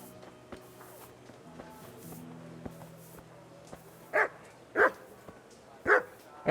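A dog barks in the medieval village square of Kingdom Come: Deliverance, four sharp, spaced barks near the end following quieter ambient sounds and faint footsteps.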